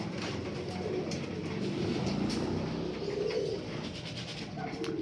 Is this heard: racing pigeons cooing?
yes